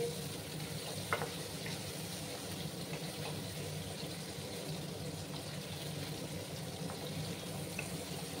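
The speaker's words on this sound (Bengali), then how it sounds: "প্রথমে আমি আগে পনিরগুলোকে ফ্রাই করে নেই।" Paneer pieces frying in oil, a quiet, even, continuous hiss and sizzle with little variation, one or two faint clicks, and no talk.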